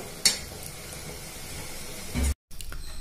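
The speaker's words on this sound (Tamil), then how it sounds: "வெல்லம் போட்டு வடிகட்டிட்டு வடிகட்டின பாவுல கொஞ்சம் தேங்காய் பூ போட்டு கொதிக்க வச்சிருக்கேன்" Jaggery syrup with grated coconut bubbles and hisses in a pan with a steady simmering fizz, one sharp utensil clink early on, then a brief cut in the sound.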